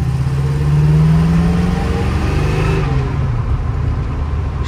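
A 1949 Ford F1 truck with a V8 hotrod restomod engine, heard from inside while driving and shifting into reverse, a loud steady low engine drone with a slight rise in pitch and then an easing off.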